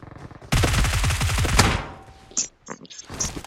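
A rapid burst of automatic gunfire in a video game, loud and close for about a second, followed by a few shorter, scattered shots and noises.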